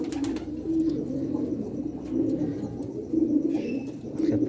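Several pigeons of red Shirazi, green silver and black varieties coo softly and continuously nearby, with a low rolling murmur running through the whole stretch and no talk.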